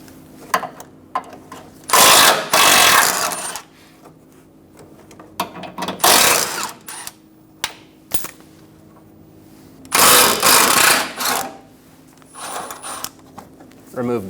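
Two bolts being removed from the fog light support on a 2014–2018 Chevrolet Silverado 1500, heard as loud bursts of a power tool whirring, with ratcheting and clicking in between over a steady low hum.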